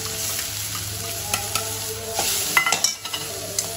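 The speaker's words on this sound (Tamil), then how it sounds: "இந்த சுரக்காயை திருவுணத போட்டு நம்ம வதக்கிடலாங்க" Grated bottle gourd sautés in a kadai for a payasam, a steady close sizzle broken by spoon stirs and scrapes against the pan.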